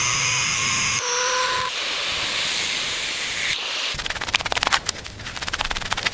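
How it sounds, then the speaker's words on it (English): High-pressure steam jet hisses steadily and loudly while cleaning the connecting rods of an abandoned Thomas toy train during restoration, breaking off briefly and then returning with rougher, sputtering bursts. "Steam cleaning these connecting rods is critical."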